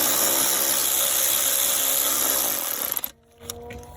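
A power tool whirs steadily for about three seconds, driving a bolt into the alternator mount of a 1999 Toyota 4Runner, then cuts off and leaves faint clinks and handling noise.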